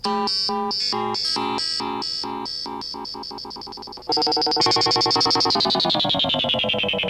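Guitar notes pulse through a Moogerfooger modulation pedal, first choppy on-off square-wave stutters, then a louder, swirling warbling sine-wave tone that sweeps and sustains.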